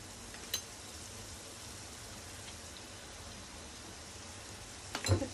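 Pav buns toasting in butter on a pan give off a faint, steady sizzling hiss, with a small clack early on and a louder knock near the end, and no voices.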